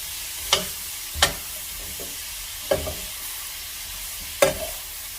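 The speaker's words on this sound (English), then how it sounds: "Gonna add my green beans. Smells amazing already, and just toss these." Fresh green beans tossed in a pan over moderate heat, with four sharp clattering stirs standing out over a faint steady sizzle.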